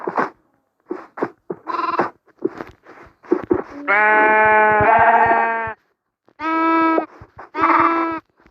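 Repeated Minecraft sheep bleats, several long wavering calls with clipped, synthetic-sounding clicks and short tones between them, loud and close.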